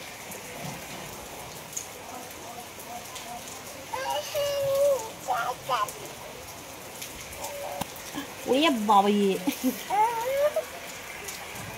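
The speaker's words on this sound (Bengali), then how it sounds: "দেখো বৃষ্টি পড়ছে দেখেছো ওরে বাবা কেমন বৃষ্টি হচ্ছে" Steady rain patters down close by, a continuous hiss of drops on surfaces, while a few voices speak now and then over it.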